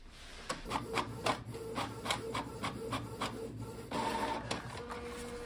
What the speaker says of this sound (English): Just by clicking it once, it will send the test page to the printer.